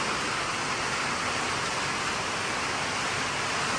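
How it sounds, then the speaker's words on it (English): A dense, unbroken hiss of heavy rain pours down steadily, loud and even with no pauses or voices. "It raining."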